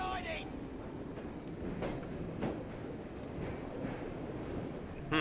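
A train in the video game Assassin's Creed Syndicate gives a steady, continuous rail rumble throughout, with a player talking over it.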